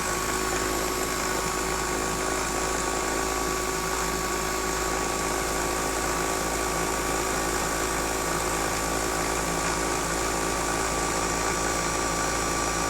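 A car alternator rewired and driven as a homemade brushless DC motor spins steadily at high speed, a constant whine with a fixed tonal hum and a dense buzzing layer holding level throughout, with no voice over it.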